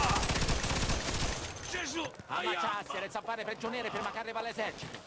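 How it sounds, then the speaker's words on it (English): Machine gun fire from the video game Mafia II, a dense rattling burst in the opening seconds that then drops back beneath ongoing speech and in-game voices. "Gotta watch out for the machine gun."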